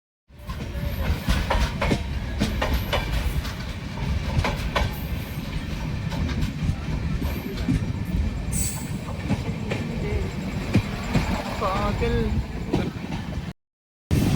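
A train on the Konkan route rumbles steadily at Kundapura railway station in Karnataka, with clattering wheels and a brief high squeal, loud and close throughout. Voices talk faintly underneath.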